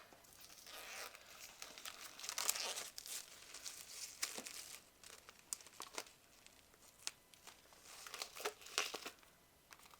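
Stiff packaging around a multicolor pack of velour paper crinkles and tears in bursts of dry rustling, with short louder rips between quieter handling noises, close up and with no talking.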